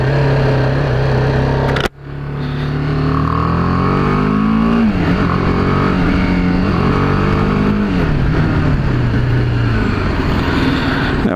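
A BMW G 310 R motorcycle runs under load, its engine note rising and falling through gear changes as the rider accelerates, loud and close, with wind noise and a sharp click near the start.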